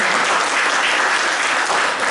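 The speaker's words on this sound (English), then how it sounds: "So give a clap for our Farid Alam sir." A hall audience at a closing session of a university foundation program claps together in dense, steady applause that stays loud and even throughout.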